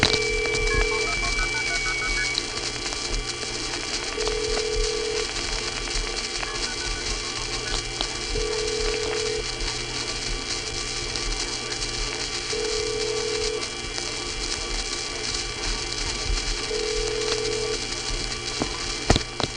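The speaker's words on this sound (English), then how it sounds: "the sound that sounded like a squealing teapot, which you heard before and will hear again, is a nearby trunk which goes into oscillation when it's about to receive a phone number" A 1976–1981 telephone trunk line oscillates, giving a steady, loud whistling tone like a squealing teapot, with short tones recurring at regular intervals over a constant noisy line hum.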